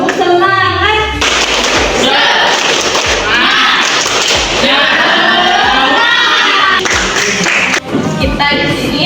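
A classroom of children claps a quick, energetic rhythmic cheer, with voices chanting and shouting along, loud and close throughout.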